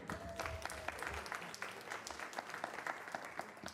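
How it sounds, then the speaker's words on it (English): Attendees at a town board meeting in Babylon give a round of applause, a moderately dense patter of clapping heard from some distance, fairly quiet overall. "Another round of applause for Jeremy"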